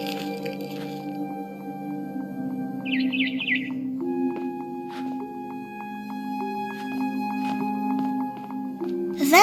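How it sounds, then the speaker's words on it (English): A barn swallow chirps outside a window in the video game What Remains of Edith Finch, a short quick burst of twittering laid over a sustained, soft musical drone. "Then I heard chirping outside my window."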